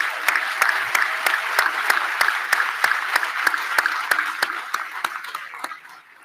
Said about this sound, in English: And so, Beth, a big round of applause for that.